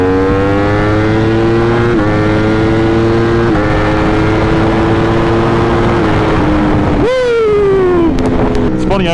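A powerful production motorcycle accelerates hard, its engine note climbing steadily through the gears with brief dips at each upshift, loud and close with constant wind roar; a voice briefly speaks over it.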